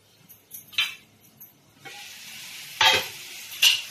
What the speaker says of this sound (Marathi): अशी अधूनमधून असं झाकण काढून परतायचं आणि परत झाकण ठेवायचं